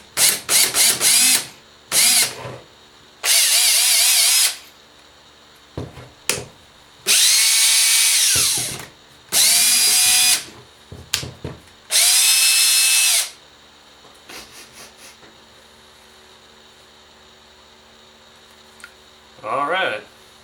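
A Makita DHP458 cordless drill runs after being repaired, its motor whining in several short, loud bursts with pauses and handling clicks between them, close up.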